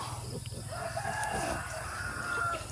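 A rooster crows at a moderate distance on a pig farm, over a steady low background hum, with faint clucking from other fowl around it.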